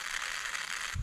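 A hand-cranked seed spreader scattering winter wheat gives a brief, soft mechanical whirring and ticking of gears, ending in a low thump.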